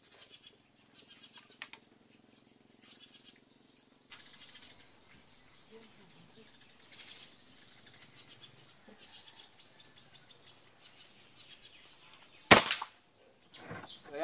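A converted Taurus PCP air rifle fires a Meteor diabolo pellet with a single loud, sharp crack late in a quiet outdoor stretch, with birds chirping faintly beforehand.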